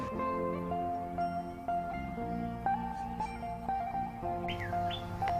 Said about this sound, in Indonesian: boleh menggunakan suara sirtu betina ataupun suara sirtu jantan bertarung